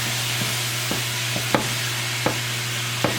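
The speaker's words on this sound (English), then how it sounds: "Let's mix everything together." A spoon stirs green beans and sweet corn in a pot of fried spaghetti with vegetables, giving soft periodic scrapes over a steady low sizzle, with no talking.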